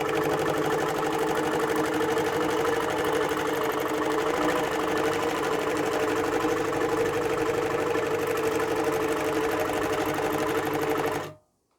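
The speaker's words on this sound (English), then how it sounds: "I'm going to sew all the way up and down till I hit that stitch line" A longarm quilting sewing machine runs steadily, stitching a wreath design along a ruler template in one continuous, close, even mechanical hum with a fast stitch rhythm, stopping abruptly at the end.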